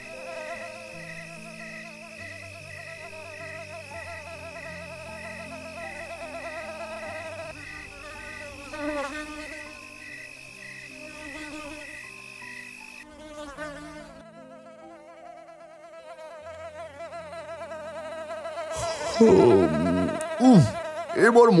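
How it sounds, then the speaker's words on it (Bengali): A cartoon mosquito pesters someone at bedtime in a children's animated story, its high whining buzz droning steadily and wavering in pitch, then ending in a louder jumble of effects. "ঘুমের সময় মশা এসে বিরক্ত করছে।"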